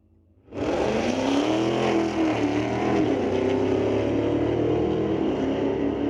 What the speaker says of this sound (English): Oh, the sweet sounds of drag racing